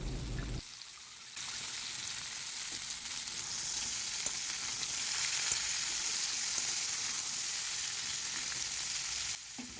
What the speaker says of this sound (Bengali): সবজিগুলো সবকটাই ভালো করে ভাজা হয়ে গেছে এবার এর মধ্যে দিয়ে দেওয়া হলো ভিজিয়ে রাখা ছোলা